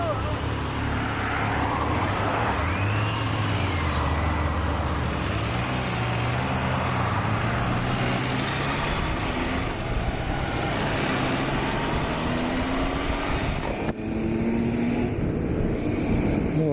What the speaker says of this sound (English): he's on his new Kawasaki Versus 1000 SE GT